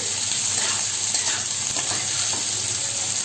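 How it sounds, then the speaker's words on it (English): Onions frying in a pan over a medium flame for a chicken kassa curry, giving a steady, close sizzle with faint stirring scrapes throughout and no talking. "In medium flame you fry the onions."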